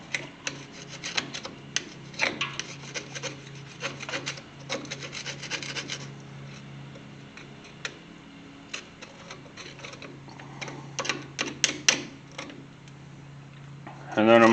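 A dirty brake caliper on a 1983 Chevy C30 is scrubbed around the bleeder screw, giving close repeated rubbing and scraping strokes in bursts with short pauses between them.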